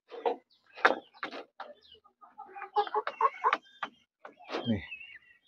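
Filipino chickens aged three to seven months cluck and squawk in short irregular bursts while eagerly eating feed, close and fairly quiet, with small clatters of feeding between calls.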